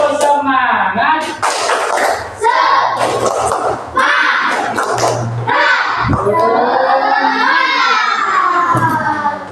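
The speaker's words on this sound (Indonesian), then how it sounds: "1, 2, 3, tepuk semangat." Group of children doing a tepuk semangat spirit clapping chant, shouting rhythmic words together with sharp claps in between, loud and close in a room.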